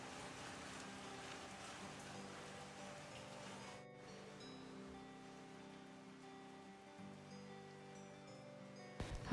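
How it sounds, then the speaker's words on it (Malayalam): Heavy rain falls steadily on a rainy morning at home, a broad even hiss with a constant low hum running underneath and a brief clatter at the very end. "അപ്പോഴും നല്ല മഴ പെയ്യുന്നുണ്ടായിരുന്നു"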